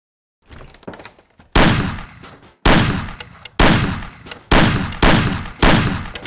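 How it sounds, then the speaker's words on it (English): Six sharp, loud gunshots fired at cans on a table in the game Mafia, spaced roughly a second apart, each cracking hard and ringing out with a short decaying tail after faint clicks of readying the weapon. "Shoot the cans off of the table."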